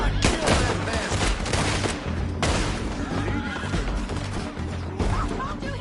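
Gunfire rattles during a town shootout in the Red Dead Redemption 2 video game, with dense volleys of shots, horse whinnies and hoofbeats mixed together, loud and chaotic throughout.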